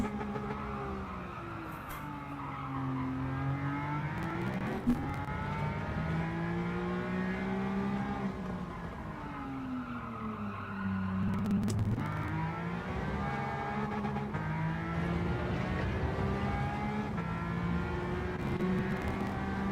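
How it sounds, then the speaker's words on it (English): A McLaren GT3 engine in a racing game, revving hard with rising and falling pitch sweeps that repeatedly bounce off the rev limiter, steady and loud throughout. "I let it bounce off the rev limiter a couple of times."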